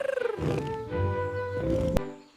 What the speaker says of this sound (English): Can you growl like Tara?